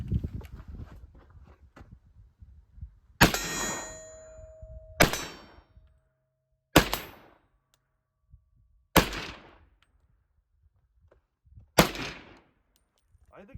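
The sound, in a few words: M1 Carbine rifle gunshots hitting steel targets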